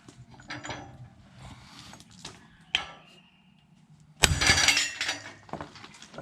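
Several sharp metallic clanks ring out at uneven intervals, with one heavy strike near the end, as an 8-pound sledgehammer hits a Nissan 350Z differential part close by.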